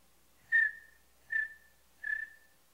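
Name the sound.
contestant imitating a bird call by whistling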